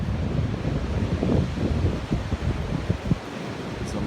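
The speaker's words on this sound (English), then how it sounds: "So this wind's going to get stronger later on" Strong winter wind blows through woods at a hammock campsite, a loud steady roar with gusty rumbles buffeting the microphone.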